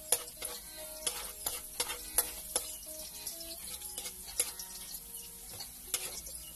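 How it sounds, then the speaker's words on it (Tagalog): Chopped garlic toasting in a pan over a charcoal fire for eel adobo, a steady crackling sizzle punctuated by sharp scraping and stirring clicks of a utensil against the pan, close and fairly quiet. "Tuwin lang po natin yung bawang."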